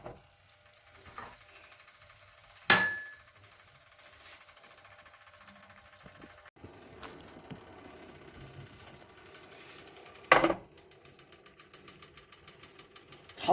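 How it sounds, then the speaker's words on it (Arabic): Vermicelli and rice being stirred in a pot for koshari, a quiet scraping and sizzling texture that runs steadily throughout, broken by a few sharp louder clatters. "هنفضل نقلب كده"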